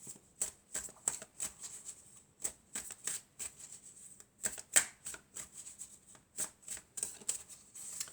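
Tarot cards being shuffled close up, a steady run of quick riffling flutters and soft slaps in an even rhythm, fairly quiet with no talking.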